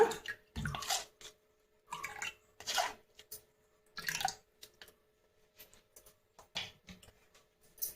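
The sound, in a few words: straining mint chutney with water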